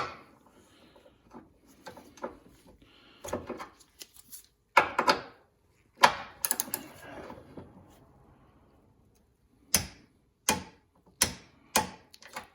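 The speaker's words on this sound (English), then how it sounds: "Put it on the torque wrench." A Harbor Freight torque wrench ratchet on a fastener, sparse mechanical clicks and clacks in short irregular bursts with pauses between, close and fairly quiet.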